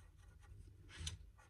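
A moistened brown marker tip colouring a stamped rabbit on card, producing soft, faint scratchy strokes in a few short passes.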